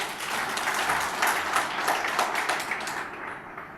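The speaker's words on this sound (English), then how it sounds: "I think we need a round of applause for that" Audience applause at the opening of the 3rd Global Agriculture, Food Security and Climate Change conference, a dense, steady clatter of many hands that fades away near the end.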